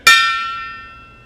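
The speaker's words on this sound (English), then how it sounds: "There's a couple more gong things." A gong in a shop is struck once, giving a sharp metallic hit followed by a bright, ringing tone that slowly decays over about a second, heard alone.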